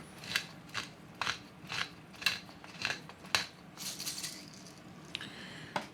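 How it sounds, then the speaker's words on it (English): A pepper grinder grinds black pepper over a plant-based, mayo-free potato salad, making soft, rhythmic crunching bursts about twice a second, close but fairly quiet. "Put in some grinds of black pepper for me"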